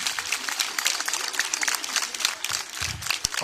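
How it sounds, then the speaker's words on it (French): Men and boys at a school International Women's Day event clap for the girls; scattered, fairly faint applause with uneven bursts of hand claps and some crowd shuffling, no speech over it. "Les hommes peuvent applaudir pour les filles."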